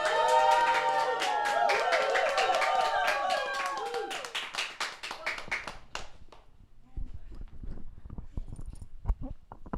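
An audience applauds and cheers for the singer at a live show. A loud burst of claps mixed with voices lasts about four seconds, then thins to scattered individual claps.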